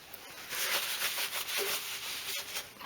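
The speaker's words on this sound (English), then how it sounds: "go over a little bit of red scotch, just go over the whole thing, just to try and key it up a little bit" A red Scotch-Brite pad scrubs over a vintage oil can in quick, close, rhythmic rubbing strokes with a harsh, scratchy texture.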